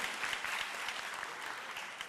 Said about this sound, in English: Let's give a big round of applause to Pastor Greg.